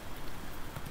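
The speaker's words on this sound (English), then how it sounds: "it's pouring down with rain" Heavy rain pouring down in the survival video game Icarus, a dense, even hiss of falling water filling the brief moment, faint and steady with no voices.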